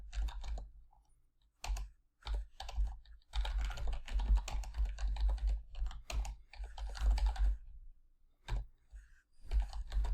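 Terminal commands are typed on a computer keyboard in quick bursts of close, crisp key clicks separated by short pauses, alone and fairly quiet.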